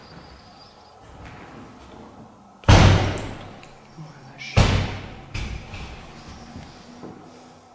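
Two doors slam shut a couple of seconds apart during a paranormal investigation, each a loud heavy thud that decays slowly, heard over quiet background murmur and faint voices.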